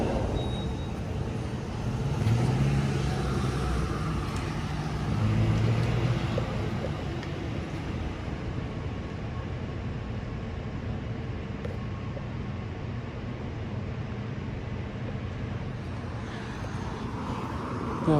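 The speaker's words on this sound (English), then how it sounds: "We got a truck going in." A truck pulls in at a site in Medford, Oregon, its engine a steady low rumble that swells slightly early on and then holds level at moderate distance, with no talking.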